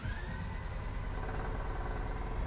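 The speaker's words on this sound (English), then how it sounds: "Let's fire up the generator" A portable generator's small engine runs steadily at a constant low rumble, close by, with no voices over it.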